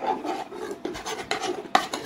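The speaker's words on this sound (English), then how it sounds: "I'm going to put all 4 packs of gelatin in here. Kind of dusty, eh? Knox, 4 packages. And what I'm going to do is I'm going to stir this." A spoon stirring four packets of Knox gelatin into cool water, a few rough scraping and rasping strokes against the bowl, close and fairly quiet.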